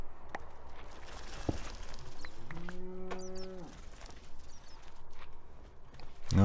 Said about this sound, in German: die Kühe, die ich hier unten höre, sind keine richtigen Kühe